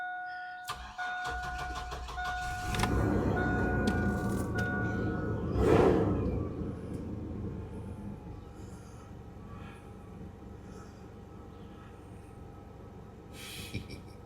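A 2003 Chevy Blazer engine cranks over and settles into a steady idle, a continuous low rumble with a brief surge in revs near the middle, close by and alone.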